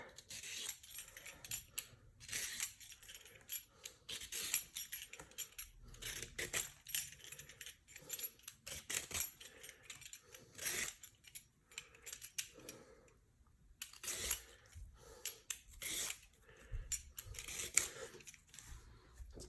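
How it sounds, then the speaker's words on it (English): A vegetable peeler strips the skin from a large radish in steady, repeated scraping strokes. Each stroke is a short crisp rasp, heard close and clear with no talking. "Then we're going to peel it with a vegetable peeler."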